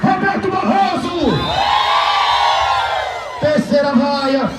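Large outdoor crowd loudly booing and jeering a government minister at a protest, long sustained vocal swells with shouts breaking through, rising and falling in bursts.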